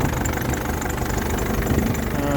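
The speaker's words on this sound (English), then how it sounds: "I thought I'll just do a engine start up, see how she went on." Ford Transit Mk5 van engine idling after start-up, a close, steady mechanical rumble with a light vibrating texture throughout.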